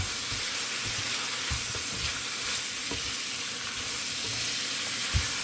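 Mung beans and spinach sautéing in a pan give off a steady, hissing sizzle, broken by soft thumps and clatters of stirring, close and continuous with no talk.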